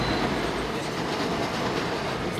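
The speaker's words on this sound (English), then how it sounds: "This next stop, the train goes in the tunnel." A number 6 line subway train in the Bronx rumbling past loud and close, with dense clattering wheel noise and steady roar filling the whole stretch, no voices.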